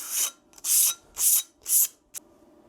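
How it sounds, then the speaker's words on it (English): Coarse 60 grit sandpaper scuffs the build plate of an Elegoo Saturn resin 3D printer in one direction, four loud, close, gritty strokes in a steady rhythm, then a brief final swipe, with no talking. "I'm going to take some 60 grit sandpaper that's really coarse, and I'm going to go in one direction."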